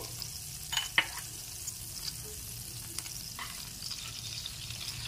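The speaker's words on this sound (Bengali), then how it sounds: "এখন একটু নেড়েচেড়ে ফ্রাই করে নিচ্ছি" Finely grated garlic frying in a pan while being stirred, a steady close sizzle broken by a few sharp scraping clicks from the spoon.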